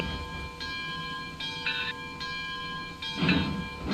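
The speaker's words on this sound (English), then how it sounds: "It's easier to blow the whistle on other locomotives in third player," Locomotive horn or whistle in an online train video game, several steady tonal blasts of varying length over a rumbling rail background, with a louder burst of noise near the end.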